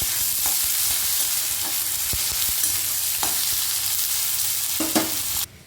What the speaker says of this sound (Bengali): এবারে আলু আর পেঁয়াজটা একসাথে কিন্তু ভেজে নেব